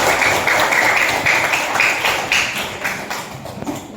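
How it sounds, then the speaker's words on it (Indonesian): Classroom applause for a student: a burst of quick clapping from a group of students, fairly close and fading toward the end. "Kita berikan tepuk tangan dulu untuk Ferry."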